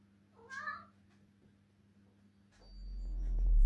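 A single short meow from a cat inside a home, close and clear over a quiet low hum, followed by silence and then a rising rumbling noise near the end.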